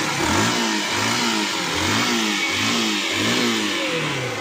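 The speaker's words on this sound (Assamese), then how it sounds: "মই অলপ এক্সেলেটাৰ দি দেখাই দিছোঁ।" A 2018 Yamaha SZ-RR motorcycle engine revs repeatedly at close range, the throttle blipped in a regular rising-and-falling pattern over a continuous idle.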